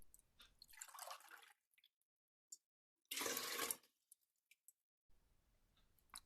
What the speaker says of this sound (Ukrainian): І тоді я наливаю 12 стаканів води